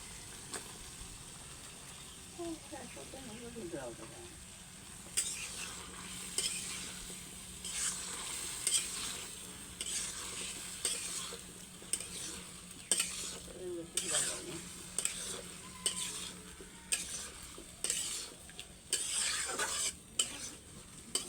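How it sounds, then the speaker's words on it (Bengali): Meat and potatoes fry in spiced masala, a soft sizzle joined by frequent scraping stirs and clinks of a spoon against the pot, close and steady with no speech. "এই যে নাড়াচাড়া হয়ে গেল"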